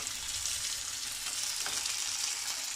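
Tomato with onion, garlic and ginger paste sizzles steadily in hot oil as the masala base for a periwinkle curry, a close, continuous frying hiss with light stirring throughout.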